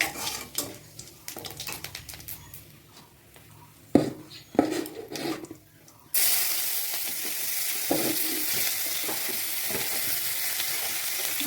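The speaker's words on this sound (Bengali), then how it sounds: "এবার কড়াতে ফোড়নের জন্য আমি গোটা গরম মশলা, একটা তেজপাতা," Whole garam masala and a bay leaf hit hot oil in a kadai for tempering, bursting into a loud, steady sizzle that holds on after scattered clinks and scrapes of a utensil against the pan.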